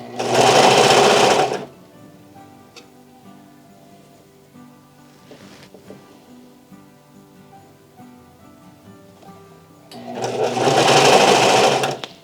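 A Vevor industrial sewing machine serges jersey-and-flannel fabric in two loud, fast, whirring bursts of about two seconds each, at the start and the end, with a quiet pause of faint handling noise between them.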